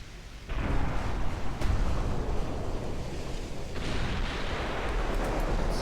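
Warship guns firing in a naval battle in Ultimate Admiral Dreadnoughts, British 1900 campaign, heard as a continuous rumbling roar of distant broadside fire with heavy low booms, sustained and dense with no talking.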